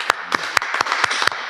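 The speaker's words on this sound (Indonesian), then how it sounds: "tepuk tangan dulu" A few scattered claps from a small audience at an Indonesian talk show, about six separate sharp hand claps spaced irregularly, near and fairly loud, with no steady applause forming.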